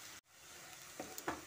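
Onions, garlic and ginger fry in oil in a pan, giving a steady soft sizzle broken by a short silent gap and a couple of brief crackling pops.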